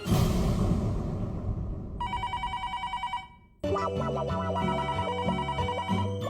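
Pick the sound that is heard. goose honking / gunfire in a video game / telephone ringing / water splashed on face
telephone ringing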